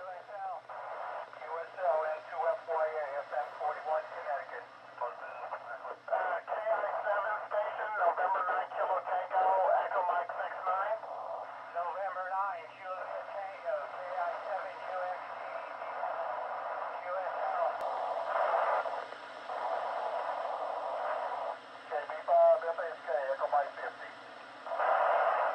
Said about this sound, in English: we want to be able to hear our own signal through the downlink